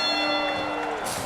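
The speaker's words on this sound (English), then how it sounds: "Referee Chad Rico signaling for the bell as these two lock up in the center of the ring." A ring bell rings at the start of a women's pro wrestling match, a single struck tone with a long ringing decay heard fairly faint in a large arena over crowd noise.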